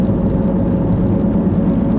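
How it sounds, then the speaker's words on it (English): A jet aircraft flies low overhead outdoors, a loud, steady, roaring rumble close by with no talking. "we got a surprise flyby by a Hell's Angel jet right over our shoulders"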